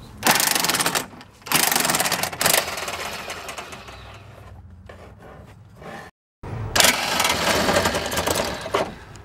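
A ratchet wrench works 13 mm bolts out through the grille of a Dodge diesel truck during a radiator replacement, giving bursts of close, dense mechanical clicking separated by short pauses.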